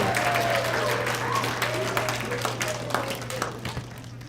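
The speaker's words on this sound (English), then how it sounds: "people spontaneously break into applause without me even asking them to" A festival audience bursts into spontaneous applause after a magic trick, with dense clapping over a steady low hum, while voices call out briefly and the clapping thins toward the end.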